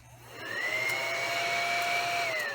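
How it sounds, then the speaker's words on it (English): A little handheld vacuum cleaner sucks up glitter from a UV-light tray: a thin, steady whine that ramps up, holds for about two seconds, then winds down, fairly quiet and alone. "it's a little vacuum cleaner."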